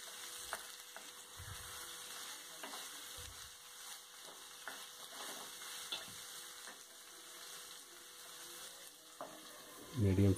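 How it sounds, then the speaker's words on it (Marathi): Paneer and capsicum frying in a pan give a steady, soft sizzle with light stirring scrapes, close but quiet, ending in a louder clatter. "ते आपण याच्यामध्ये टाकून घेऊ. तिला याच्याबरोबर व्यवस्थित फ्राय करायचं."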